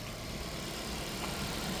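The 1.8-litre petrol engine of a 2006 Ford Focus C-Max idles at a steady, even hum, heard alone as a faint, uniform drone with no voices.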